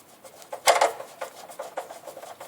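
A cable clamp being tightened on a baseboard heater gives a series of short dry scrapes and rubs, one louder grinding stroke early on, then lighter rasping bursts at a close, even pace.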